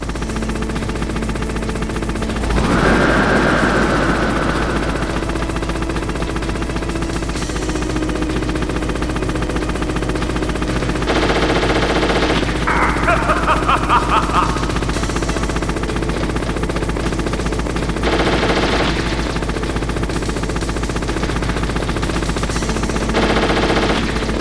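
A Hind D attack helicopter rumbles steadily in the Metal Gear Solid video game while loud bursts of machine-gun fire break out in several separate volleys over a constant low engine drone.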